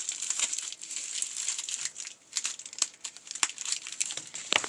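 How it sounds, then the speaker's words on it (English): Tape crinkles and crackles as it is pulled and wrapped around a cardboard crowbar, with close, irregular bursts of rustling and sharp crackles. "I'm just going to tape it together."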